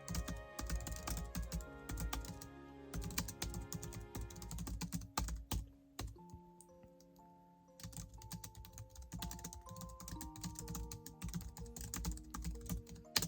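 Steady, rapid typing on a computer keyboard, close and fairly quiet, with dense key clicks broken by a short pause before continuing in an even rhythm.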